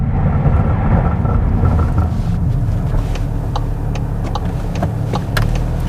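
A car brakes hard from 60 mph on all season tyres on a road, a loud low rumble of road and cabin noise with faint ticking as it slows, no talk.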